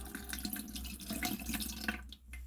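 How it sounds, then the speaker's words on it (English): Water is poured into the top of a Viomi humidifier, a continuous splashing trickle close by that fades out near the end, over a low steady hum. "You basically just pour water on top,"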